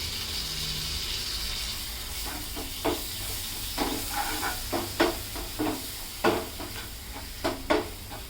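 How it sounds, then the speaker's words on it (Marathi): Tomatoes and a little salt hit hot oil in a pan for Maharashtrian shev bhaji, giving a steady, close sizzling hiss broken by a series of short scraping stirs. "आता मी यामध्ये टोमॅटो घालते आणि थोडंसं मीठ घालते"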